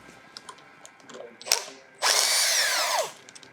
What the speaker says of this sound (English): to remove this brake lever, the first thing we're going to do is take the lock nut off the bottom.